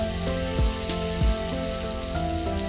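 Mixed vegetables for veg chowmein sizzle steadily in a hot pan, a continuous frying crackle with a few dull scraping knocks of stirring spaced through it.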